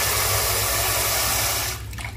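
Water pours and splashes steadily while rinsing millet, like a stream running into a container, then thins out and stops near the end.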